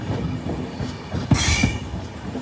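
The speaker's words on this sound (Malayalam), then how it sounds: "ട്രെയിൻ ഇപ്പോൾ അടുത്തൊരു സ്റ്റേഷനിലെത്തി." Yesvantpur to Sindhanur Express pulling into a small single-platform village station, with rumbling wheels, a few metallic thumps and a brief high squeal of braking wheels, heard up close and steady throughout.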